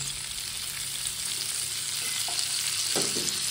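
Chicken frying in melted butter in a pan, a dense, steady sizzle with a few crackles and stirring clatter near the end, close and alone without talk.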